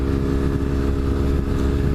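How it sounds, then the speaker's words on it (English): A motorcycle fitted with an aftermarket Two Brothers exhaust runs at a steady, loud, close rumble with no break for the whole stretch. "I just put this Two Brothers exhaust on this bike"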